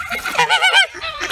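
A goose honks loudly and close at feeding time, a quick burst of three or four harsh, nasal calls in rapid succession.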